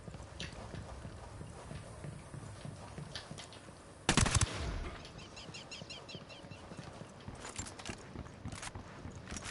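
Gunfire in the video game Ghost Recon Wildlands: a sharp, loud burst of shots around the middle, followed by scattered lighter pops and clicks over a steady background of ambient noise.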